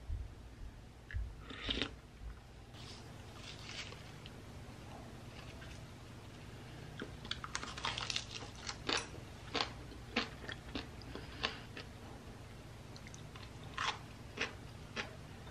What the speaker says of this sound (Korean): 오늘은 밑반찬이랑 잡채랑 김치찌개 남은 거랑 마른 김이랑 같이 먹으려고요.